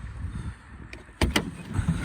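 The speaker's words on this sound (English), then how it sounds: "Electric door." Electric sliding door of a 2004 Nissan Elgrand van: a low motor hum and rumble followed by two sharp clunks close together as the door latches, nearby, with no talking.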